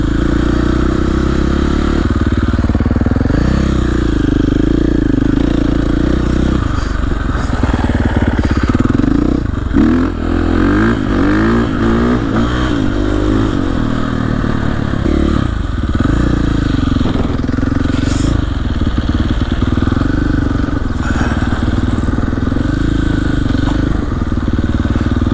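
A dirt bike engine drones loud and steady throughout a trail ride in central Maine, its pitch rising and falling as the rider shifts and accelerates, with rattling chassis noise over rough ground.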